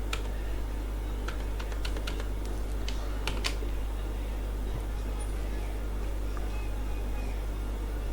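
Computer keyboard keys tapped in short irregular clusters while entering text in MS Access, fairly faint over a steady low hum, with long pauses between bursts.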